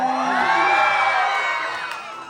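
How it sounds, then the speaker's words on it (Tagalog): A pageant crowd at a national costume competition erupts in loud cheering and shrill whoops, many voices overlapping in a sustained roar that eases slightly toward the end. "wala po bang palakpakan dyan? Wala rin po bang hiyawan dyan?"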